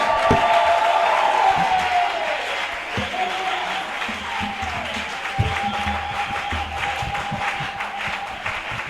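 A church congregation applauds together during a worship service, producing a dense, sustained wash of clapping from many hands. Cheering and voices are mixed in, and the applause stays at a steady level throughout.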